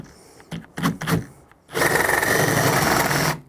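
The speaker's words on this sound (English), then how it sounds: "Very important here, let the drill bit do the work." A power drill bores a hole in a door for a keypad electronic lock, first scratching in reverse and then driving forward; a few short bursts give way to a loud, steady whir that runs for nearly two seconds before stopping.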